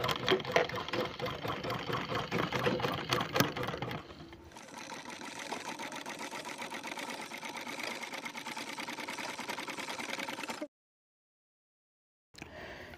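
Sewing machine running and stitching fabric, a loud, busy whir that drops to a softer steady hum, cuts out, then starts again briefly.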